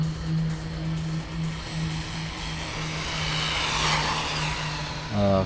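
A radio-controlled car runs at full throttle, its steady high motor whine and buzz holding loud and close for the whole stretch, rising slightly near the end as a new tone cuts in.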